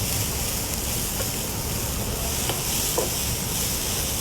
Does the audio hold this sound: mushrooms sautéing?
yes